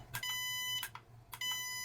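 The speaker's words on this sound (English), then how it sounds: "So we'll hold it down until it beeps, a long beep." An RC transmitter gives short, bright electronic beeps, three evenly spaced tones while its steering trim is centered, loud against a quiet, faint background.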